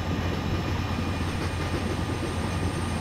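A blue WDG4 dual-engine locomotive pulling the Ahilya Nagari SF Express in an Indian train simulator game, giving a continuous, even rail rumble and wheel clatter at steady speed, with no talking.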